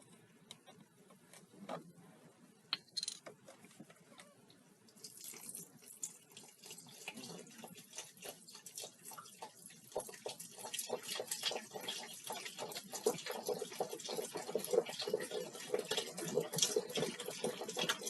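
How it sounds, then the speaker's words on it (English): Chicken broth poured into a cooking pot, a faint liquid trickle that grows into a steadier, louder stream over the final seconds, with no talking. "4 cups of chicken broth. Is this whole thing? I think that's how many cups is it? Pour that in there."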